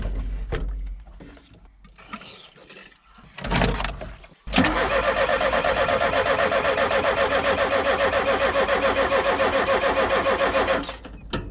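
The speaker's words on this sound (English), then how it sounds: "let's try cranking it a little more" A Ford Transit Mk2 camper van engine cranks without firing, a loud rhythmic starter churn running for about seven seconds after some quieter handling noises, then cutting off.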